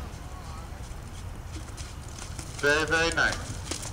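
Horse hooves clip-clop at a steady walking rhythm throughout a riding lesson in an arena, with a rider's instructor briefly speaking near the end.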